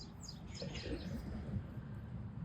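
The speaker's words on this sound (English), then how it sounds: "Watching the birds? There are lots of birds today." Birds chirping in a garden on a morning, scattered light high calls drifting in over a steady low outdoor background rumble, fairly faint and no talk.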